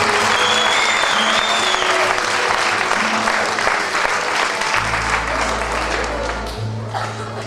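Loud, sustained applause from an audience at a New Year celebration, dense and continuous, gradually easing toward the end with a low hum and faint voices in the background.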